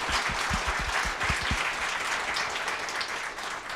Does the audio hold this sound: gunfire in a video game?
no